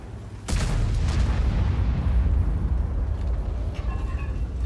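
Grille 15 tank destroyer fires its main gun in the World of Tanks game: one sudden loud boom, followed by a long, deep rumbling roar that lingers for several seconds.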